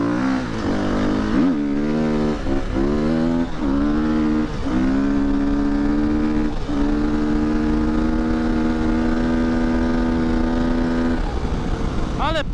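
A new KTM motorcycle engine revs hard on a field in the evening, close and loud. Several sharp throttle blips rise and fall in pitch before it settles into a long, steady high-revving drone.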